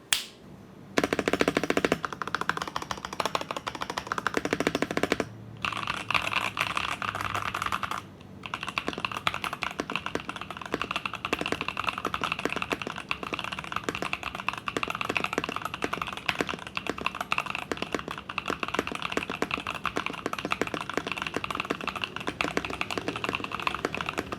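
Rapid, continuous clacking of a mechanical keyboard being typed on, close and steady, with a few brief pauses early on.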